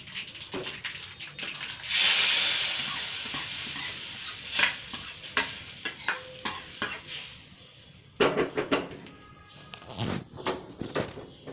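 A Telugu tempering of spices hits hot oil in a pan for aratikaya pindi miriyam (raw banana dish), bursting into a loud, steady sizzle that fades, followed by scraping stirs and clinks of a spoon against the pan.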